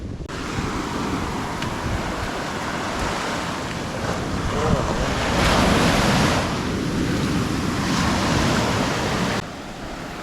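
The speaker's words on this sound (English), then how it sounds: "That's Oakey Beach." Ocean surf at Oakey Beach on the South Coast, a steady broadband wash of breaking waves swelling and receding, with wind buffeting the microphone throughout and no talk.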